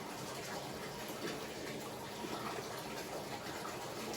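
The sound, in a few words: filling cup with Tide laundry detergent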